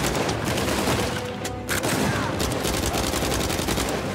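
Sustained, dense gunfire from blind firing in the game Uncharted 4 on a beach, a continuous loud rattle of rapid shots lasting throughout with a brief dip midway.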